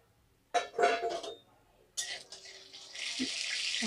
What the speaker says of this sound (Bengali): তেল গরম হয়ে গিয়েছে, এবার এর মধ্যে দিয়ে দেবো শুকনো লঙ্কা আর দিয়ে দেবো জিরে।